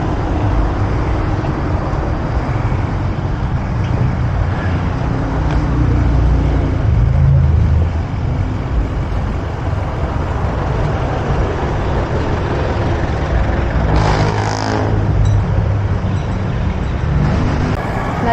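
Heavy road traffic in Laguna heard from a bicycle, with big vehicles rumbling past nearby in a continuous loud engine drone and wind-roughened noise, swelling and easing as they pass, with no talking.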